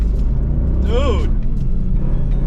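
A Kia Stinger GT's engine gives a deep, loud, continuous rumble from inside the car, with a short rising-and-falling whine partway through and voices talking over it.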